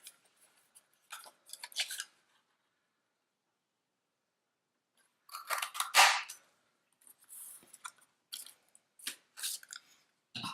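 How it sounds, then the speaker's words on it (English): A 1 1/4 inch circle punch cuts through paper for a Valentine lollipop treat holder, giving crisp close clicks and crunches in a few separated bursts with quiet gaps between. "And then we will cut that out with a 1 1/4 inch circle punch."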